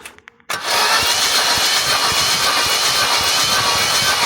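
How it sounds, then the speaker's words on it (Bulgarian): A 1.6-litre 71 hp Opel Vectra A engine spins on its starter with a gauge fitted for a compression test, a loud steady rhythmic cranking that starts abruptly after a brief quiet moment and continues without the engine catching. "Сега само слагам манометъра и натисни газта и върти."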